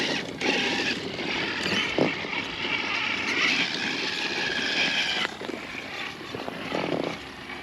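TRX4 Bronco RC trucks, a 1973 Bronco and a 2021 Bronco, driving around outdoors, giving a steady high-pitched motor whine with continuous buzzing and a few brief bumps, fairly loud and close throughout.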